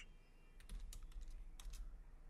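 Someone types on a computer keyboard, entering After Effects shortcuts in a quiet close-up: scattered soft key clicks and a few sharper taps, with no voice.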